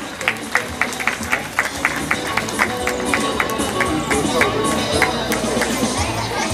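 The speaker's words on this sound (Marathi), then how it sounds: "कमीत कमी टाळ्या तरी वाजवा." An audience at a school's annual gathering and prize-giving ceremony claps in a quick, even rhythm, with crowd murmur and a voice underneath.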